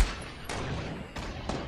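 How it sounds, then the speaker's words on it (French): Fortnite gunfire: a sharp shot at the start followed by two more distinct cracks about a second apart, close and fairly loud, with a sniper rifle among the weapons. "j'ai mis une balle de snipe"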